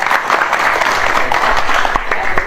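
Steady applause from an audience at a gathering, dense continuous clapping filling the whole stretch at fairly close range with a faint voice or two mixed in.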